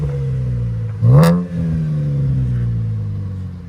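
A 2015 Chevy Camaro 3.6L V6 with an HKS exhaust and HKS mufflers idles steadily, then gives one quick blip of the throttle that rises and falls back to a low, smooth idle.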